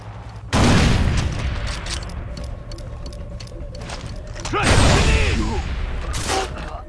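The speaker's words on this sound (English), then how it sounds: "Grenade!" Grenade blast in the Far Cry 3 shooter game: a loud explosion bursts in near the start, rumbling on amid battle noise, then a second heavy boom hits about four seconds later with debris and echoing tail.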